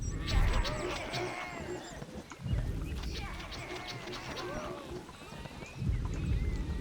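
Sheep in the Overlord fantasy game bleat repeatedly, a flock of wavering calls overlapping through the whole stretch, with low thumping footsteps and game noise underneath.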